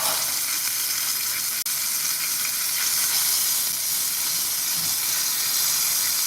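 Steak frying in a cast-iron pan, producing a loud, continuous close-up sizzle with an even hiss and one sharp click partway through, with no voices.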